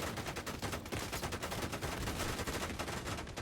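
Sustained gunfire in The Division 2, with dense rapid shots running continuously at steady loudness and no pause.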